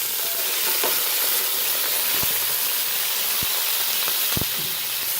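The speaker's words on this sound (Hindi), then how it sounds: "जब इनका कलर चेंज हो जाए अच्छी तरह लहसुन में फ्राई करेंगे।" Goat trotters fry in hot oil with garlic, giving a continuous loud sizzle and hiss, with a few short knocks and scrapes from stirring.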